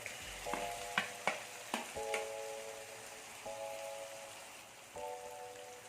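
Chicken pieces fry in hot oil for Kerala-style chicken kondattam, a steady, soft sizzle broken by a few sharp clinks and taps of a utensil against the pan, close and quiet with no voices.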